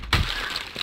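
A machete striking zombies in Project Zomboid, one sharp crunching impact followed by a brief rough scrape and a fainter second knock, close and loud.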